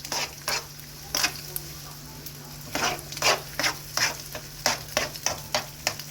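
Oil in a frying pan, reused from earlier potato frying, spits and crackles in sharp repeated bursts over a steady sizzle, with a low hum beneath.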